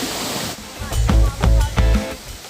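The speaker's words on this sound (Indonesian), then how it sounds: "Gemuruh air mengalir bertingkat-tingkat di sela bebatuan berwarna abu-abu kehitaman." A three-tiered waterfall at Baruttung Gollae rumbles over grey-black rocks, a constant rushing roar under a voice that speaks briefly over it.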